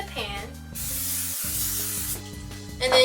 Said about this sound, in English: Next we are going to spray the pan.